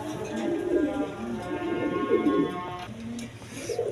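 Several Panja pigeons coo in low, rolling, repeated phrases close by, overlapping one another over a steady background hum with a faint tonal whine.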